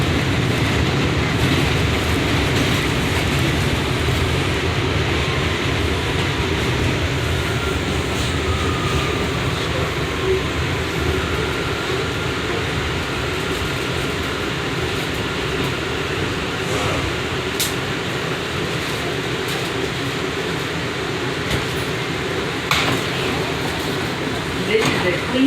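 A Queens-bound R179 J subway train on the BMT Jamaica Line runs toward Broadway Junction from Chauncey Street, giving a steady loud rumble and roar of wheels and car body throughout, with faint rail clicks.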